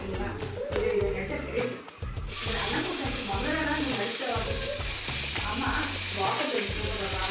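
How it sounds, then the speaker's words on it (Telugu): Tomatoes going into a hot frying pan for Banarasi tomato chaat, a steady close sizzle and frying hiss with occasional taps of a utensil, running under casual home kitchen conversation. "సో డాడీ ఇప్పుడు టమాటాలు వేస్తున్నారు"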